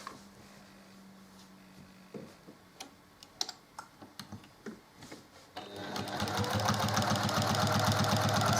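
A sewing machine stitches a quilt row for a split diagonals block: a few scattered clicks and taps first, then the motor whirs up into a loud, steady, rapid stitching close by.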